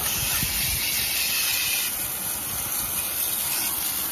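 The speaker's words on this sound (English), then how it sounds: "We're gonna rinse it off." A water spray hisses steadily and close by as it rinses a dirty car wheel, a continuous broad wash of noise with no talking.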